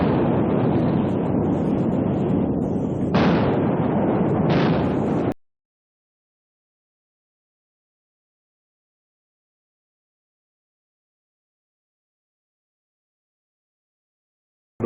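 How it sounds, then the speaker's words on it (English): Five-inch secondary guns on an Iowa-class battleship fire two short, sharp blasts over a loud, rushing roar of wind and sea, after which everything falls silent. "There are also 5-inch guns, which supplement the firepower of the main gun turrets."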